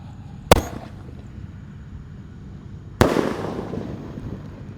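A Bima Sakti 4 firework, set off for Lebaran, gives two sharp loud bangs a few seconds apart. The second blast trails into a crackling, fizzing decay, heard fairly close with no talk.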